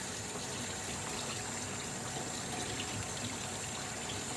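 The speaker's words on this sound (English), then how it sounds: "I'm just rinsing off any cleanser that was still left on here through the drain" Water runs steadily from a sink tap, rinsing vegetables for an organic veggie soup and washing leftover cleanser down the drain, a continuous close hiss with no talking.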